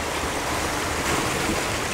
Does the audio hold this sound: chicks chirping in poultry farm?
no